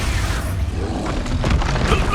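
Expulso spell blast in the video game Hogwarts Legacy, a loud booming explosion with a dense low rumble and crackling debris that fills the whole moment.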